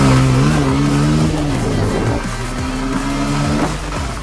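Motorcycle engine revving hard during a wheelie over road bumps, loud and close, with the pitch rising and falling as the throttle is worked and a rougher stretch midway.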